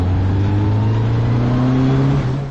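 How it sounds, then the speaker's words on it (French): A Formule Renault single-seater race car accelerates on track, its engine loud and close with a steady, rising mechanical roar and no voices. "je me permets quand même d'accélérer un peu parce que c'est marrant"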